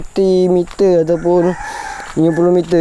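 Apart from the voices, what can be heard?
chickens clucking and crowing outdoors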